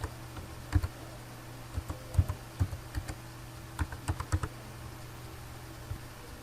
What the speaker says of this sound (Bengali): আমি একটা ইমেল অ্যাড্রেস এন্টার করতেছি